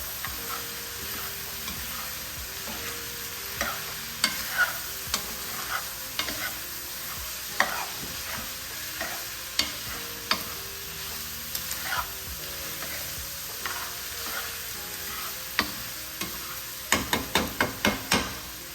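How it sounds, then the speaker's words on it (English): A spoon stirs sizzling baked spaghetti sauce seasoned with black pepper in a pan. Steady frying hiss runs under irregular scraping and tapping, ending in a quick burst of rapid clicks. "Stir it up."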